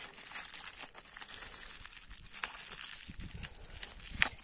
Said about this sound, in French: Je vais y arriver à enlever le scotch.